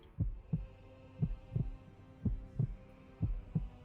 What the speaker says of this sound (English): coming directly from him is the sound of a heartbeat